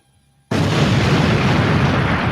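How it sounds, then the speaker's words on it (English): A sudden loud explosion bursts in after half a second of near silence, then a dense, sustained roar of rumbling debris fills the rest of the moment without fading. "All right, what's the explosion?"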